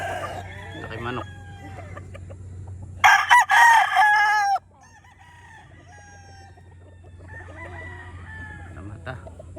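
Roosters and hens in a poultry coop, with a loud close rooster crow bursting out mid-clip amid softer clucking and distant crowing over a steady low hum.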